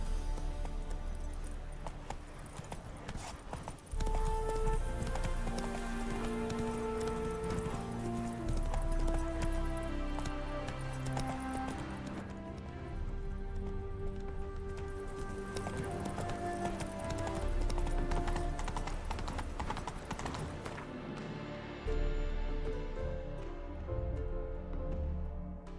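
Horse hooves clip-clop steadily at a gallop in The Witcher 3 video game, running under orchestral game music with an occasional whinny, loud and continuous throughout.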